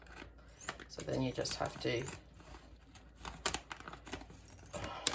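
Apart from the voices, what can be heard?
scissors cutting plastic bag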